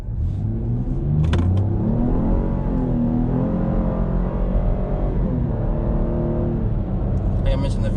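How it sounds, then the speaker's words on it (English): A 2021 Chevy Blazer RS with a V6 engine accelerates, its steady engine note rising in pitch through a brief run, heard close and continuous from inside the vehicle. "I'm gonna do a slight acceleration run really quick."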